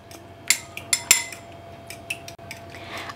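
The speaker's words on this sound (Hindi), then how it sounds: "नमक डालेंगे स्वादानुसार और अच्छे से फेंट लेंगे।" Eggs with salt and black pepper beaten in a bowl with a utensil, giving a few sharp clinking taps close by, then softer scraping, no voices.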